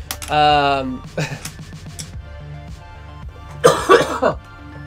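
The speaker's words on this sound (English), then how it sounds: "the coughing is just going to be a continued feature of the stream tonight" Several harsh coughs and throat-clearing bursts from a nearby voice, spaced out with short pauses between them.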